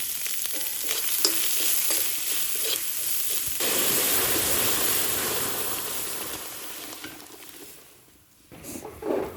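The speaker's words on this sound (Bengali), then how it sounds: "নারকেল তেলের পরে দিয়ে ভেজে দিচ্ছি।" Dried chili, bay leaf and five-spice fry in hot coconut oil with a loud, close, continuous sizzle and crackle that fades briefly near the end, then flares up again.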